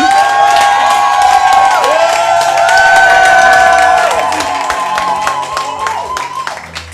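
A large crowd cheers, whoops and claps loudly and continuously at a medal ceremony, with children's shouts rising above the applause; the cheering holds strong and then eases slightly toward the end.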